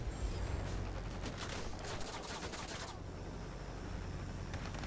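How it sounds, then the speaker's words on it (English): Dense, continuous gunfire in a Wargaming battle game as guns shred tents and soft targets, a steady roar of rapid shots with crackling bursts throughout, under a constant mix of game noise. "I'm going after the tents, the soft targets, because I can do that. These guns, these just decimate soft targets."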